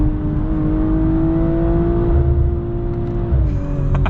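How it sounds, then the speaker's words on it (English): The engine of a 2022 BMW M440i xDrive drones loud and steady from inside the cabin at high revs, holding near the limiter, then dips and stutters briefly near the end with sharp clicks. "You can bounce off the rev limiter a little bit."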